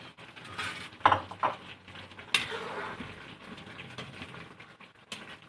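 Chicken and moringa leaves being stirred in a pot, with scraping and clinking of a utensil against the metal, a few sharper knocks, and soft sizzling in between.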